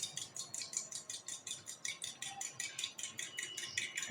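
Two eggs and a few spoonfuls of water whisked in a bowl for chicken cutlet coating, a steady fast rhythm of bright clinking strokes against the bowl, close and continuous with no talking.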